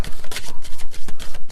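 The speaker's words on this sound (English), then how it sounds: "All right, one more shuffle." A deck of oracle cards being shuffled by hand, giving a quick run of about seven rhythmic riffling bursts that are close and loud, with no talking.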